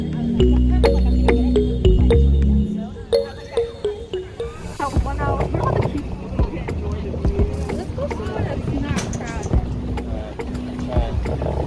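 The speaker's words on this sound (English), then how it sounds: "Steering it? Okay, we're paddling." Paddles splash and dip in the water of Green Lake from a small boat, with soft irregular strokes and water sloshing close by while people talk over them.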